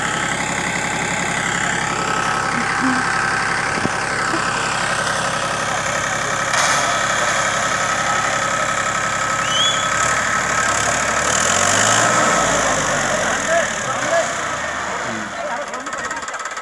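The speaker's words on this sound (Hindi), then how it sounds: "बंद कर ले ट्रैक्टर को बंद कर दो ट्रैक्टर को" A New Holland tractor engine idles at a farm demonstration near Muzaffarnagar, giving a steady, close, continuous rumble throughout while people talk over it.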